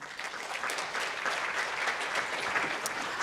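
Conference audience applauding to welcome a panel on responsible investment, a steady dense patter of clapping from a hall crowd, fairly close and sustained for the whole stretch.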